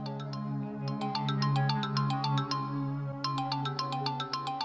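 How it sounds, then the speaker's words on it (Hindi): A phone ringtone plays a repeating electronic melody, fairly loud and steady, pausing briefly before the tune starts again. "फोन बज रहा है तुम्हारा"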